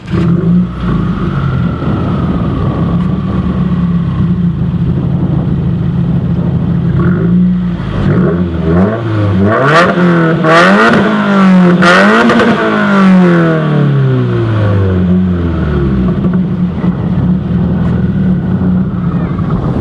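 2016 Subaru WRX with COBB Stage One tune and Nameless muffler-delete exhaust, loud close idle broken by a cluster of sharp rising and falling revs, then a long descending rev back down to a steady rumble.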